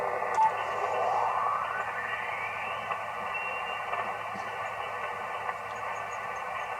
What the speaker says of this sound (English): Got a few static crashes, but still no noise floor.